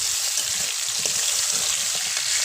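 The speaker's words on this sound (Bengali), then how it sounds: "কুমড়ো আর বেগুনটা একটু ভাজা ভাজা হয়েছে দেখুন" Pumpkin and eggplant pieces fry in hot mustard oil in a pan, a steady close hiss and crackle that runs without a break the whole time.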